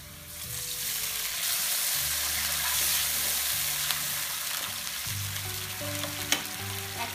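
Onion frying in a pan, a steady close sizzle with intermittent stirring, no voices.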